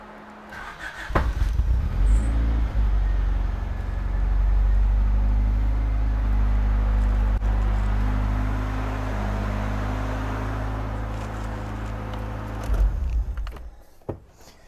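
A 1989 Honda Prelude engine cranks briefly, catches and settles into a steady, loud idle for about twelve seconds before shutting off, heard up close with no speech.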